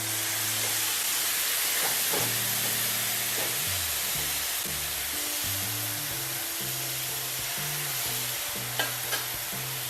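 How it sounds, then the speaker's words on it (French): A splash of broth hits a hot pan and sizzles in a continuous loud hiss, with a low droning hum running underneath throughout. "pour qu'il continue à cuire, on peut mettre une petite touche de bouillon"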